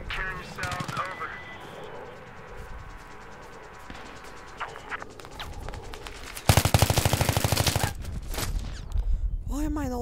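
Machine gun fire in Battlefield 3, a rapid burst of automatic shots breaking out partway through amid game noise and scattered chatter, loud and close.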